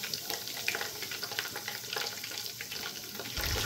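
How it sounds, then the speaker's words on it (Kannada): Whole spices such as cloves and cardamom fry with kasuri methi in a pan for chicken biryani, giving a faint, steady crackling sizzle with light intermittent stirring sounds. "ಹಾಕ್ಕೊಂಡು ಈ ಥರ ಫ್ರೈ ಮಾಡಿ ಸ್ವಲ್ಪ."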